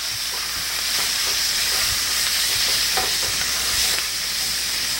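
Potatoes fry in hot bacon grease in a pan, a continuous close sizzle with soft crackles and steady intensity and no voices.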